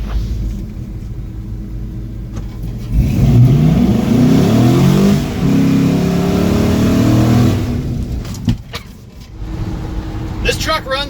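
LS-swapped 1968 Chevy C10 truck with a 2008 drivetrain revving hard, a loud close rumble rising and falling over several seconds, with a voice talking over the engine noise.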